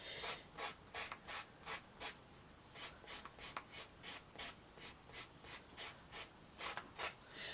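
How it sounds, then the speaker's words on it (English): A sanding block rubbed back and forth to shape a miniature handbag, giving soft rhythmic scraping strokes, quiet and close, repeated evenly with no talk. "Take my sanding block and you just shape it."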